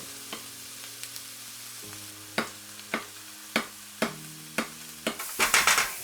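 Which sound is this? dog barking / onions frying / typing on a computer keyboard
onions frying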